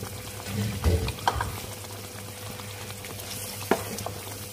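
Tamarind water and blender rinse water pour into a cooking pot with a soft splashing, gurgling wash over a low background hum, a few clinks along the way.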